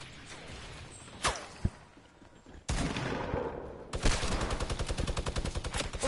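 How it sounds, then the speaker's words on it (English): A minigun fires in a PS4 shooter game, with a couple of sharp single shots early on, then a loud, sustained rapid-fire burst of rattling reports that runs to the end. "There's a dude over there who has a minigun."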